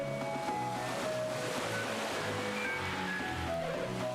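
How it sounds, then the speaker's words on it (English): Ocean waves from the video game Golden Sun: Dark Dawn wash in a constant, even surf that blends with soft melodic game music. "The sound of the waves here inspires my violin playing."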